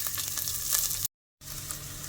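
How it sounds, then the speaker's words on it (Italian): Soffritto of chopped lard and aromatic herbs sizzles steadily in a clay pot, a close, continuous frying hiss with a brief gap of silence partway through. "partiamo con il soffritto, quindi nella stessa pentola di coccio"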